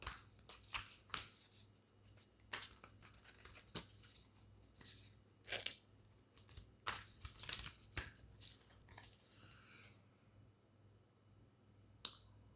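Tarot cards being shuffled and tapped in quick, crisp bursts of riffling and clicking, close by and fairly quiet, with no voices.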